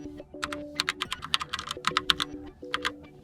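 Fingers tap quickly on a Logitech Pop Keys mechanical keyboard, a near, uneven run of crisp clicky keystrokes with a faint tonal hum behind them.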